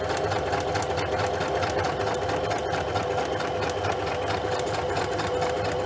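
A sewing machine stitching through junk journal pages, including a short back stitch, runs steadily and close up for the whole stretch with a constant mechanical whir and rapid needle chatter, no talking.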